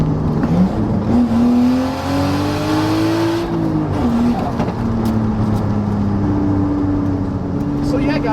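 Nissan 240SX engine revving during rev-match downshifts while driving, a loud sustained engine drone whose pitch climbs, drops and rises again with each blip, heard close from inside the car.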